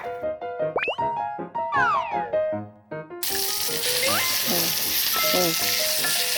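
Onions stir-fried in a pan until caramelized for onion soup, a loud continuous sizzle with stirring scrapes, preceded by clattering kitchen sounds.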